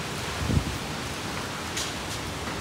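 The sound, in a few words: heavy hailstorm falling on village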